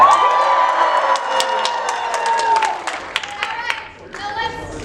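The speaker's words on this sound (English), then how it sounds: "I'm going to need you to cheer nice and loud." A crowd at a lively event cheers loudly on cue, a sustained swell of shouting and whooping with clapping that fades after a few seconds, with voices throughout.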